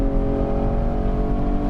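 A Porsche 718 Spyder's 565-horsepower naturally aspirated 4.5-litre engine revving hard to about 8,200 rpm, a loud sustained mechanical whine with a rough low growl beneath it.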